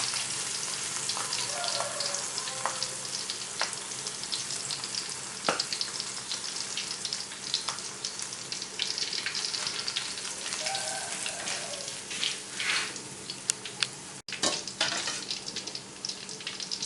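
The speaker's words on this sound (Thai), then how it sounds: "ด้านหนึ่งกรอบแล้วนะคะก็จะพลิกอีกด้านหนึ่งนะคะ แล้วก็ทอดให้จนสุก" Som fish, a fermented fish, deep-frying in oil gives a continuous soft crackling sizzle, with scattered pops and a few light clinks through the frying.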